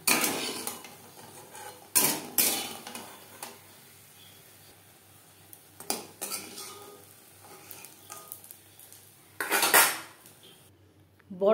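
Fried lentil fritters lifted from a pan into a bowl, with several sharp clanks and scrapes of metal utensils against the cookware. They come in irregular bursts, close and fairly loud, over faint background sizzling.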